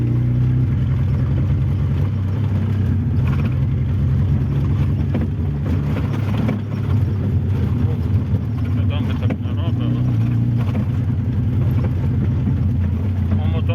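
A 2008 Tavria injector car engine drones steadily and loudly throughout, with a low rumbling hum and slight shifts in pitch, as though driving at speed in third gear.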